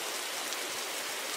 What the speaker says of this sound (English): it's just the sound of rain